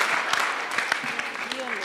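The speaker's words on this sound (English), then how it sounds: "A big round of applause for them." Applause from a retreat audience greeting first-time participants, a steady wash of claps with some voices mixed in, moderately loud throughout the short burst.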